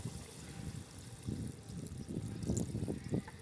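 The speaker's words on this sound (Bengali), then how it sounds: "দিয়ে দিব শেষবারের মতন জল," Water poured into a pan of fish curry with shol fish and drumsticks, a gurgling, splashing pour that swells and surges in uneven bursts, close by and moderately loud.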